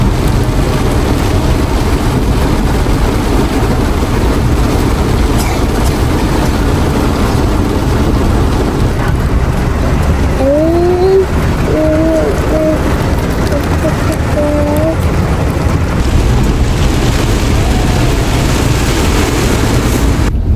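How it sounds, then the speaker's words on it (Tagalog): Sudden heavy downpour drumming steadily and loudly on a vehicle near the Nakar bridge, a dense constant wash of rain with a brief tonal whine partway through. "Ayan guys, umulan na po ng malakas."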